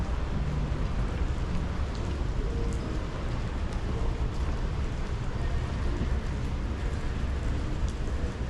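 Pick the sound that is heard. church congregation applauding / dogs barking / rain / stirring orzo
rain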